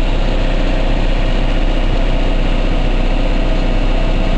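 A vehicle engine runs at nearly 2,000 RPM in first gear, its lowest gear, giving a steady, loud, unbroken drone with a low rumble and vibration throughout.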